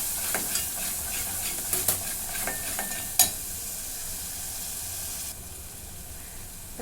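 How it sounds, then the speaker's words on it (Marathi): Homemade garam masala sautés in a pan for a chicken tambda-pandhra rassa, giving a steady close sizzle broken by several sharp spoon-scrape clicks and one louder knock, with the hiss easing slightly near the end, and no talk. "आणि हा बनवलेला गरम मसाला चांगलं दोन मिनटं परतून घेतो"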